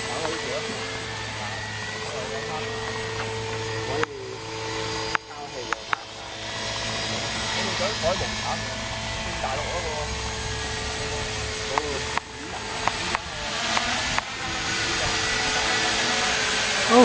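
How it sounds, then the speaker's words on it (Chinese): A Walkera MX400 radio-controlled helicopter flies at Starfish Bay with a steady, loud whine and hum of its rotor and motor. People talk nearby throughout. "嗰架直升机"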